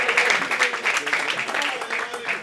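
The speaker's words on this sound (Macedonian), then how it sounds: "Ве молам еден аплауз за него" A crowd claps for young Gorjan at a song and music video launch, with dense, rhythmic applause running the whole time and loud voices cheering and talking over it.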